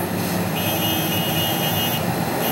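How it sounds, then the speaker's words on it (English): Sports car horn in Grand Theft Auto Vice City: a sustained, steady horn tone sounds for about a second and a half over a constant engine and traffic drone. "that was the horn for that sports car"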